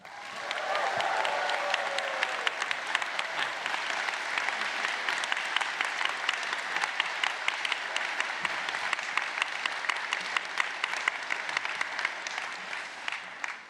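A large audience at the Stanford GSB commencement applauds Akshata and Rishi Sunak with sustained, even clapping that holds steady throughout and has a faint crowd murmur under it.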